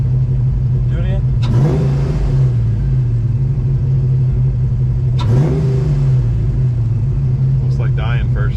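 A 34-year-old Ford Fox Body Mustang's engine idles with a loud steady rumble and is revved twice in quick blips, each rising and falling, heard close up with people talking briefly around it.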